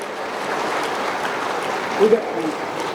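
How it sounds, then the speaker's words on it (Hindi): Sustained applause from an audience at a poetry recital in Patna, an even wash of clapping at moderate volume with a couple of brief louder bumps. "जोरदार तालियों के बीच में"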